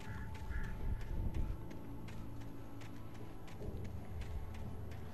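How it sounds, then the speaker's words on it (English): Birds call inside the Alan Wake video game: short, repeated honking, duck-like cries over a steady low ambient background, moderately distant and fairly quiet. "Hear the birds."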